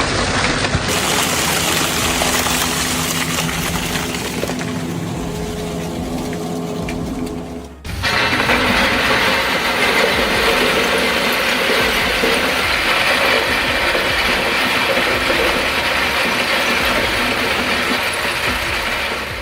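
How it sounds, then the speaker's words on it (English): Industrial shredder crushing gas tanks and bottles for recycling, a loud continuous grinding, rattling mechanical roar with a brief dip and abrupt surge midway, dense and close throughout, no voices. "The shredder doesn't disappoint."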